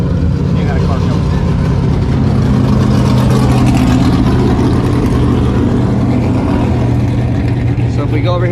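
A race car runs at Texas Motorplex, its engine droning loud and steady, with someone talking over the noise the whole time.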